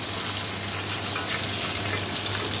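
Chicken pieces frying in a pan give a dense, continuous hissing sizzle, loud and close, steady throughout without speech.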